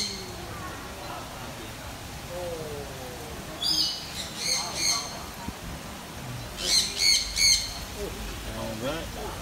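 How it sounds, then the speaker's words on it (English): Birds squawk and call at an ecological farm in Hsinchu, Taiwan, with repeated loud harsh squawks in two clustered bursts, close by and rising over steady background chatter from visitors. "over here we got some birds."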